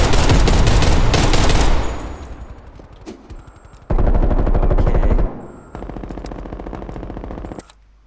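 Type 63 tactical rifle firing in Call of Duty Cold War: a loud, rapid sustained burst, a fading echoing tail, then two more long automatic bursts separated by a short pause, with no talk.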